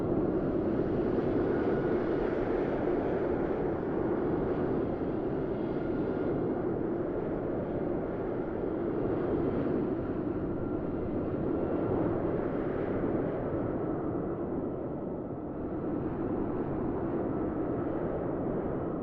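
Engines of an FS Labs A321 airliner in a flight simulator game give a constant, broad, rumbling roar that holds at an even level with only slight swells and no voices.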